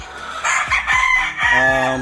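A gamefowl rooster crows loudly and close by while other chickens cluck around it in a busy gamefarm coop.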